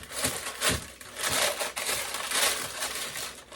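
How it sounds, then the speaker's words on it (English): Stiff parchment paper crinkling and crumpling up close in a baking pan, in irregular bursts of crackly rustling with brief pauses between handlings. "We're going to put our parchment paper"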